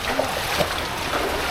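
Loud, steady rush of rising floodwater during Typhoon Opong in Occidental Mindoro, a dense roaring wash mixed with wind buffeting the microphone.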